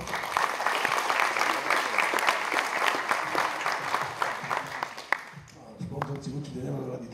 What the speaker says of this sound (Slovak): poprosil by som tiež potlesk pre tých,